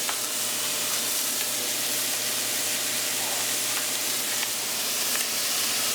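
Meat and vegetables sizzle steadily in a hot pan, a dense continuous hiss and crackle close up with no talking.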